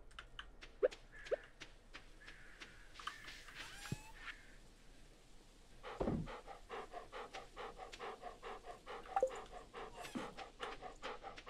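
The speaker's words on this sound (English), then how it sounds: "Dog panting loudly." A dog pants in quick, rhythmic bursts in the video game Stardew Valley, fairly faint, with a short pause partway through before the breathy huffing resumes.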